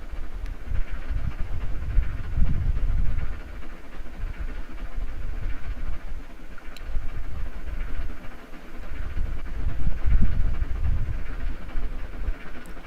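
Steam locomotives GS4 4433 and GS2 4410 running together in the Trainz video game, a moderate low rumbling chug with swelling and fading surges, heard alone without talk.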